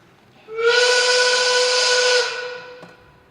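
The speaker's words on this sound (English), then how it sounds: "hear the whistle sound, the line is moving, and we're going down." A single sustained steam whistle blast, bright and hissy, holds steady for under two seconds then cuts off, followed by a faint click.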